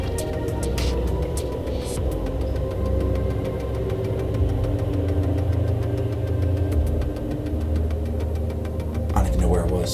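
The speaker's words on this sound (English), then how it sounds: "Gosh darn truck over here. Being all loud." A loud truck, apparently running with its mufflers off, idles nearby with a heavy, continuous low rumble and knocking engine throb that holds steady for the full ten seconds.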